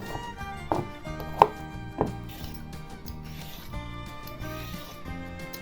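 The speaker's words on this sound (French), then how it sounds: "Je vais m'occuper de mes légumes, donc le navet, les 2 carottes, le panais et le poireau. Donc j'épluche tous les légumes." A turnip, carrots, a parsnip and a leek are peeled by hand, with soft scraping strokes and a few sharper clicks and taps of the blade, quiet and close, no voices.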